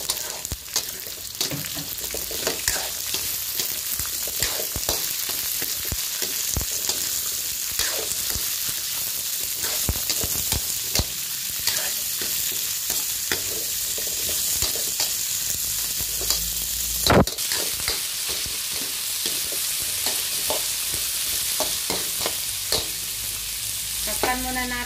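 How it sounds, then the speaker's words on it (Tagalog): String beans sizzle steadily in a hot pan while being cooked for adobo, a dense continuous frying hiss broken by scattered sharp pops and occasional stirring scrapes, close and fairly quiet with no talking. "Ilagay ko na yung sitaw."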